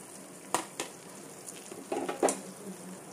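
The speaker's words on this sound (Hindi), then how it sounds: "घी गर्म हो गया है और इसमें अब हम ये आटा डालेंगे" Whole wheat flour for aata burfi drops into hot ghee in a pan and starts to roast over low heat, giving a soft, steady sizzle broken by a few sharp clinks and scrapes of a utensil.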